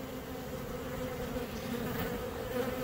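Honey bees buzzing steadily during a swarm capture, a continuous close droning hum of many insects with no talk.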